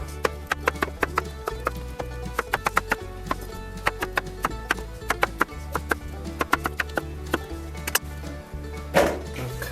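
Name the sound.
knife slicing potato into rounds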